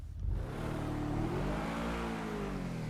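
In GTA 5 Online, a Bugatti Chiron's engine revs in a garage after an engine tune upgrade, with a loud, steady climbing roar and overtones that rise and fall.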